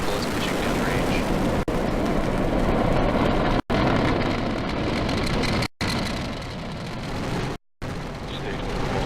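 Falcon rocket engines roar after liftoff on a SpaceX cargo launch to the space station, a loud, broad, continuous rumble with a few brief dropouts.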